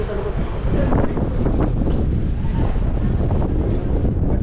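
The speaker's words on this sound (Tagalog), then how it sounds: "Lakas ng hangin ngayon, no? Malamig, tsaka malakas ang hangin." Strong, cold wind gusting across the open shore at Mission Bay, Auckland, buffeting the microphone in a steady low roar with rumbling surges throughout, loud and continuous.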